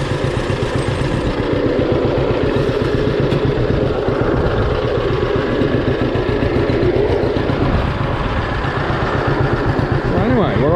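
A World War II–era John Deere B tractor runs steadily on a potato farm, its engine giving a loud, rhythmic low chugging with metallic clatter close by and no break in the beat.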